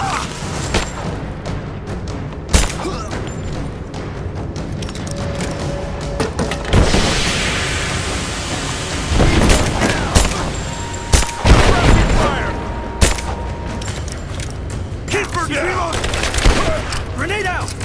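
Gunfire in the video game Rise of the Tomb Raider: repeated sharp shots and booming bursts in an ongoing firefight, with shouted voices over the combat.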